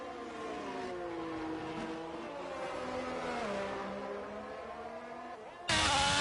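Open-wheel F4 race car engine in F1 22 at Hungary, a continuous high-pitched whine with gear-shifting pitch sweeps throughout, rising sharply and louder near the end.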